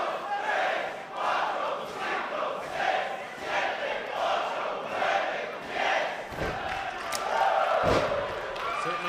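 Ring of Honor wrestling crowd at the 8th Anniversary Show chants in unison, a loud, rhythmic, pulsing chant of roughly one beat per second filling the arena, with a couple of heavy thuds near the end.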